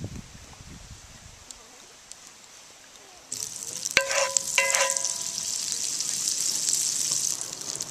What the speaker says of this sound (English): I'm going to add my butter and olive oil to that.